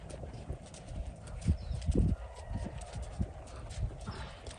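A spotted saddle horse walks along steadily, its hooves clip-clopping in an uneven rhythm at close range with a few louder footfalls, over a low rumbling background with no talk.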